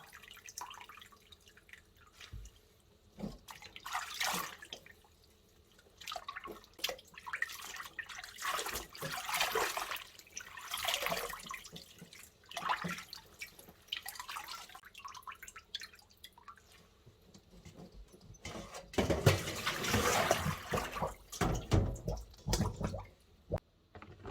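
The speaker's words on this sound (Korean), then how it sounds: "물기를 꽉 짜줄 거예요." Water squeezed by hand from wild mustard greens, soft wet dripping and trickling in irregular bursts, close and fairly quiet, swelling near the end.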